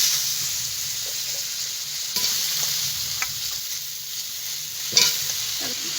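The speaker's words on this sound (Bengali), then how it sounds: "এগুলো এই মাছ ভাজা তেলের ভিতরে ভেজে নেব" Cut cauliflower and potato frying in oil left over from frying fish, a dense, steady sizzle and hiss with a few soft stirring knocks, close up and without voices.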